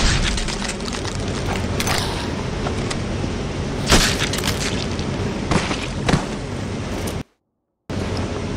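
Explosions go off in the horror video game Heaven Dust 2, heavy booming blasts over a rumbling mechanical backdrop, with sharper bursts standing out every couple of seconds before a short silent gap.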